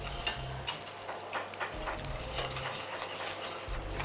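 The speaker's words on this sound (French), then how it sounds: "Vous voyez les cèpes là, ils colorent gentiment. Et on les arrose." Porcini mushrooms browning in a pan beside a reducing sauce, a steady close sizzle and bubbling with scraping and light utensil clinks over it, no voices.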